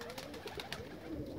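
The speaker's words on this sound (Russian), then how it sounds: "Так, ну вот он, голубь этот, который сам взлетел." Pigeons coo softly and quietly nearby, a few short repeated throaty calls over a faint outdoor background, with no talking.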